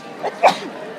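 One quick, sharp sneeze bursts out near the middle, with soft voices murmuring in the background.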